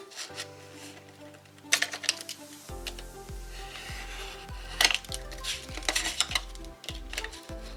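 A small corner punch trims the corners of a piece of cardboard while a baby-boy scrapbook album is being made. Several sharp clicks and crunches stand out over steady background music.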